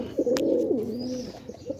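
Domestic pigeons kept at a home, a matched male and female pair, give a low, rolling coo that swells and dips for over a second, close and clear with no talking.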